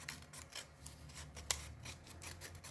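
Scissors snip along a rolled paper edge, trimming the overhang to shape a confetti cone; close, soft rasping cuts in an uneven rhythm with one sharper snip, no voice.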